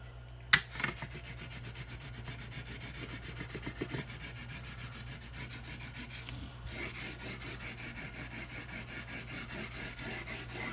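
Guitar frets are leveled with 320-grit sandpaper in a continuous dry rasping scrape. The back-and-forth strokes become a quick, even rhythm in the second half, close up, with no voices.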